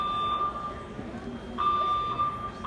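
A building's new fire alarm system, triggered by dust on its sensors, sounds a steady high electronic tone in repeated pulses, with a faint talking voice and room noise underneath.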